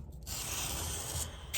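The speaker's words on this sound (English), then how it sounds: "That's the sound of something being filed." A rolling knife sharpener files the bottom edge of a knife blade held at a flat angle. The steady, close rasping scrape runs for about a second and a half without a break, with no talk over it.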